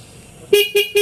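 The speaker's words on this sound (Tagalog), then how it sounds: "Pindutin mo ulit dito, loud horn po tayo" Three quick, loud blasts from a loud horn installed on a Dominar 400 motorcycle sound in a steady rhythm, bright and close, after a short quiet start.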